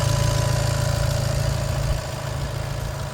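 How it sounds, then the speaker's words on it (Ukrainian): A 2020 Volkswagen Crafter van's engine idles close up with a steady, even low hum and faint rhythmic ticking, sounding smooth and uninterrupted, with no voices. "Двигунчик працює просто ідеально."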